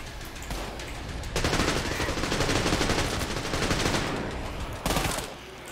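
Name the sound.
gunfire from the video game Trepang 2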